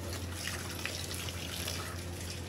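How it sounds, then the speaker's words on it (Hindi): Raw chicken being washed in warm water, a steady, close trickling and splashing of water in a basin with no voices. "अभी जो है सब धो रही है चिकन"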